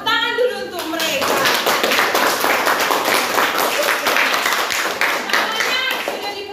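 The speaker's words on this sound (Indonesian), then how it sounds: "tepuk tangan dulu untuk mereka" A class of students claps together in a classroom, with a voice heard at the start. Then comes a burst of brisk, fairly loud clapping that holds steady for several seconds before tapering off.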